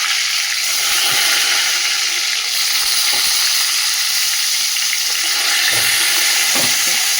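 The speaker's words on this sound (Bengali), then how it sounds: "বেগুনটা ভাজা, এই দেখো বন্ধুরা, বেগুনটাকে এই যে লাল লাল করে একদম ভেজে নিলাম।" Eggplant pieces fry in hot oil in a kadai, giving a steady, loud sizzle that continues without pause, with a few faint clinks in the background.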